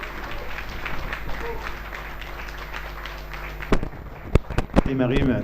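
A live-show studio audience applauds to welcome the performer Emarim, a dense, steady wash of clapping that thins near the end into a few sharp, scattered bursts.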